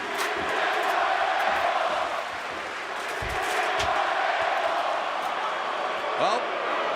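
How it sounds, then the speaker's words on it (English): Dense crowd roar fills a Chicago arena at a WarGames wrestling event as fans call for tables, a steady loud wash of voices with a brief whistle near the end. "the crowd here in Chicago wanting some tables"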